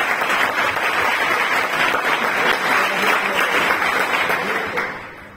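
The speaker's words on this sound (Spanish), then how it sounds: "Vamos a darte un aplauso, ¿no?" Applause from a live audience at a public talk with film director Takashi Miike, dense continuous clapping that holds steady and loud for several seconds before tapering off at the end.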